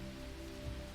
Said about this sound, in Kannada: ಅದನ್ನ ಸೀಳಿಕೊಂಡು ಬರ್ತಿರೋ ಮಳೆ ಶಬ್ದ.